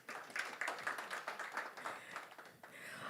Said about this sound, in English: Another round of applause for the award-winning gentleman